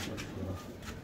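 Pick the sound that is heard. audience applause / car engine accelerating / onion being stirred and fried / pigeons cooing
pigeons cooing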